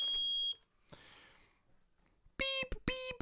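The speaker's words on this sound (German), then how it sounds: "Der Metalldetektor hat etwas entdeckt. Zumindest schlägt er laut genug an." Metal detector in the video game Phoenix Wright: Ace Attorney, a few loud electronic beeps in short bursts separated by quiet gaps.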